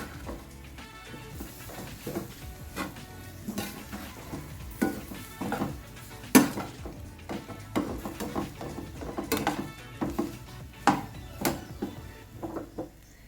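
Boiled corn, peas, carrot and capsicum being mixed in a pan for upma: irregular scraping and knocking of a spoon against the pan over a faint sizzle, close and intermittent.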